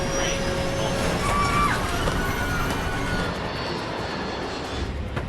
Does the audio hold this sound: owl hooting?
no